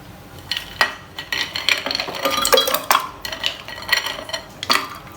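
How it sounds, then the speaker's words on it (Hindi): Ice cubes clatter and clink into milk in a jug for an Oreo milkshake, a run of sharp knocks and rattles at irregular intervals, close and fairly loud with no voices. "आइस डालते हैं।"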